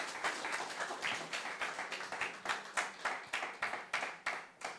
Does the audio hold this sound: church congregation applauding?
yes